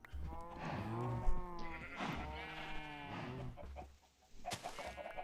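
Animals in modded Minecraft Agrarian Skies, near and loud, with several drawn-out bleating moos, a few crowding over one another. Faint clicks fill the pause that follows.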